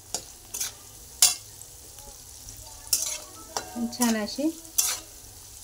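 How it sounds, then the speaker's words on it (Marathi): Potato pieces frying in oil for sabudana khichdi sizzle faintly beneath intermittent stirring knocks from a spatula, while someone talks briefly over them. "आता तेलात बटाटा भाजलेला आहे"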